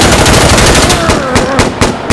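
Rapid automatic gunfire in Insurgency: Sandstorm rattles loud and close in tight bursts across two seconds, with a voice audible briefly beneath the shots.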